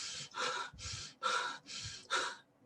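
A person imitates deep Kussmaul breathing with slow, heavy, rhythmic breaths, about three deep inhales and exhales in a row, close and loud with brief pauses between them.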